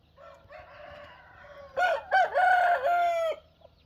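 A rooster crows loudly and close by, one long drawn-out call after softer clucking chicken sounds, against a quiet rural background with a faint low hum.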